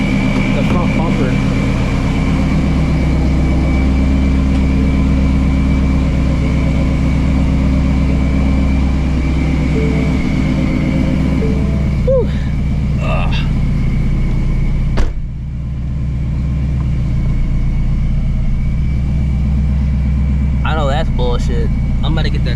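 A supercharged Shelby GT350 sits idling while it warms up, a close, steady low rumble with a faint whine that runs evenly, broken once by a short clunk partway through.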